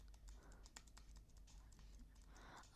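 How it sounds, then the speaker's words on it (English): A computer keyboard's hotkeys spam-clicked during a game, quick faint irregular key taps pattering throughout, quiet and close, ending in a sharp louder click. "just spam clicking my hotkeys just so you know"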